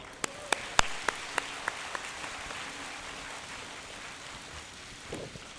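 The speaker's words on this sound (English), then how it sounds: "Give yourself a warm round of applause." A short run of loud, evenly spaced claps opens a round of applause from graduating seniors at a university commencement ceremony, then gives way to a softer, steady patter of clapping across the hall.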